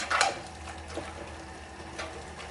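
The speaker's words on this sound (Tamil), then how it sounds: "லைட்டாக தண்ணி ஊற்றிக்கோங்க." Water is poured into a simmering prawn masala with ground coconut, giving a brief close splash at the start, then a faint trickle and low bubbling.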